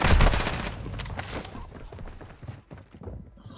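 Gunfire in a Call of Duty match: a dense burst of rapid shots opens loud, then breaks into scattered, thudding shots that fade over a few seconds.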